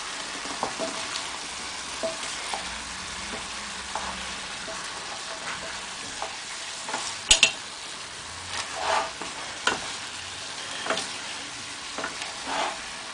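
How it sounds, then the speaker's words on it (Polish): Vegetables and meat for Mexican fajitas sizzle in a pan in a constant hiss, while occasional spatula scrapes and clinks against the pan mark the stirring. "I mieszamy razem z mięsem."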